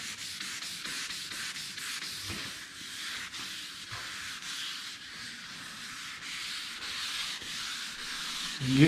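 Clear coat on a Z28 car being sanded by hand, a steady rasping scrub in quick repeated back-and-forth strokes, close and even throughout, with a slight bump at the very end.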